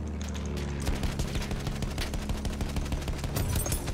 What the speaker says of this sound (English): Whoa, a bit of machine gun fire.